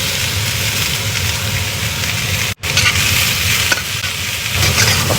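Garlic and onion sautéing in a pan for chicken pastil make a loud, continuous sizzle with stirring scrapes. It drops out for a brief moment midway, then resumes close and steady.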